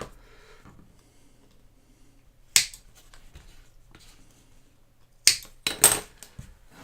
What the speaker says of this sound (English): So we can just cut those off as normal.